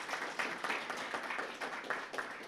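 Audience applause at an investment dialogue event, a steady wash of many hands clapping with recurring swells, moderately distant and sustained without talk.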